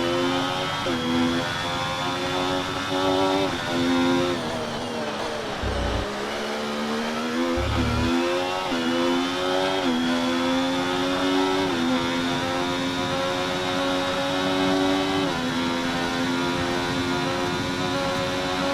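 Continuous racing car engine from the F1 24 video game, a steady high-pitched whine with shifting tones and brief dips during gear changes, loud and alone on the final lap at the Sao Paulo Grand Prix.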